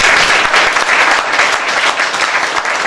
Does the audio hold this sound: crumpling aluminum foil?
no